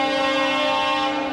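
The Tungabhadra Express pulls out of Secunderabad station under a loud, sustained, steady horn blast that fills the whole moment, with no talk.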